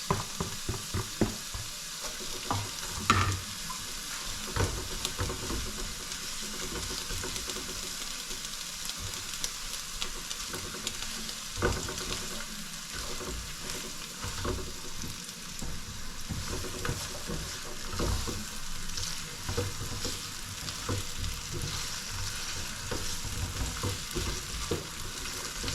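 Garlic and onions frying in a pan, with a continuous soft sizzle and intermittent stirring clatter close by.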